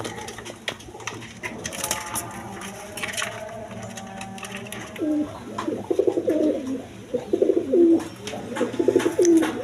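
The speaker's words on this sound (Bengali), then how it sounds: "এখানে একটা খাকি কবুতর আছে" Pigeons, including a khaki pigeon, coo in soft, low throaty bursts at a pigeon sale, growing more frequent toward the end, over faint background noise and occasional clicks.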